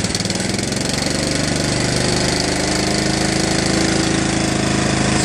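A John Deere LA105 lawn tractor engine runs at low idle, a steady, smooth, loud mechanical hum with an even pulsing rhythm, close by and alone throughout.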